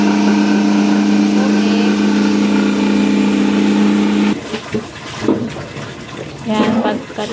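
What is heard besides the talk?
washing machine draining water after washing bed sheets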